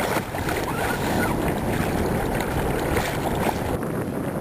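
A sail-rigged kayak with an outrigger and a flexible mast sails west across open water. A continuous rushing wash of water and wind runs the whole time, with no voices.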